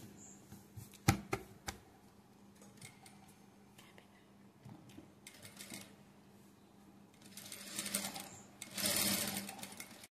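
A sewing machine stitches thread piping onto the back of a net-cloth blouse, running in faint intermittent bursts with small clicks, and a louder sustained run near the end.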